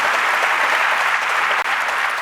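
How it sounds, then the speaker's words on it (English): A big conference crowd at Talent Connect gives itself a hearty round of applause, a loud, dense and continuous clapping roar with one brief dip near the end. "So give yourselves a huge round of applause."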